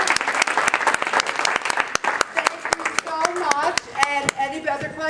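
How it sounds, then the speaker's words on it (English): An audience claps for a guest speaker, a physician, at a talk: distinct individual hand claps, loud and close, with a voice talking over the later claps. "Let's all give him a round of applause."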